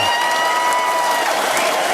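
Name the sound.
applause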